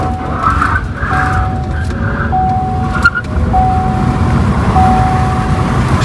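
An electric car drives along a road, its motor giving a thin, steady whine that steps up in pitch as it accelerates, carried over continuous road and tyre rumble.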